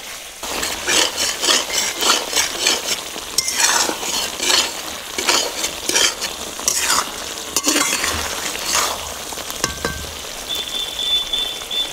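Cauliflower roast being stirred in a pan with ghee, repeated scraping and rubbing strokes of a spatula over a continuous sizzle, with a few sharp metallic clinks near the end.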